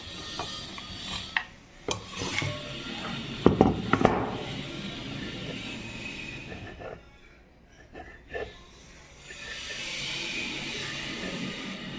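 A knife scrapes and cuts through rolled nimki dough on a board, making irregular rubbing and rasping strokes with a few sharper taps, close and moderately quiet, with brief spoken voices.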